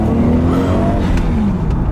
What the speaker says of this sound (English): Her first turbo kicks in, the air intake sucks in air, and it sounds awesome.